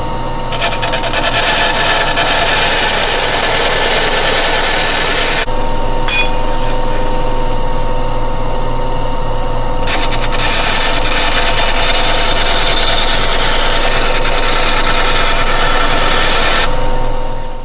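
A scrap aluminum plate is cut with a power tool, giving a loud, continuous grinding whine with two brief pauses partway through and no talking.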